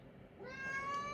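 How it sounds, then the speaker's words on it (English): A house cat meows once, a rising close-up cry that swells in the second half over faint room noise. "I'm being attacked by a cat"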